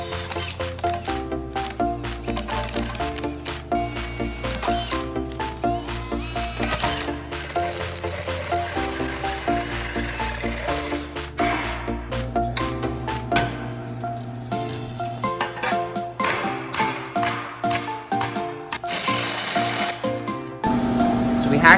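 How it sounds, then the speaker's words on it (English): A hole saw grinds through a steel bumper bash bar on a car in a series of rapid, harsh bursts with brief pauses, loud and close throughout. "we're gonna take my hole saw and start drilling this way"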